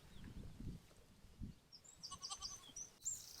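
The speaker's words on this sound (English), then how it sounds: "Oh, you silly sheep." Sheep bleating on farmland, a few short, moderately loud bleats spread across a few seconds with quiet gaps between them and no talking.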